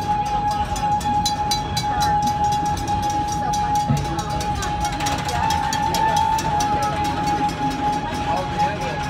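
A moving Serengeti Express park train at Busch Gardens Tampa Bay rumbles and clatters steadily from up close, with a sustained whining tone running throughout.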